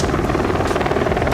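An in-game helicopter on the Border map in Rainbow Six Siege thrums with a loud, steady rotor beat, a dense continuous chopping drone with no voices over it.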